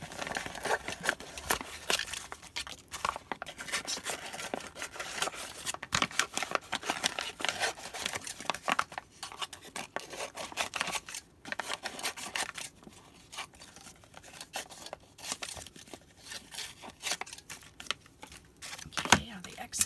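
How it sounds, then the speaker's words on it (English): Scissors cut out scraps from a paper gift bag, a continuous run of close snipping and crunching paper for about twenty seconds, with blades opening and closing in an irregular rhythm and soft rustling between cuts. "So let's cut these out."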